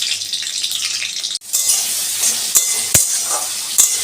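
Carrots fry in a hot pan with a continuous close sizzle, broken by a brief drop and a few sharp clinks of a spoon or ladle against the pan.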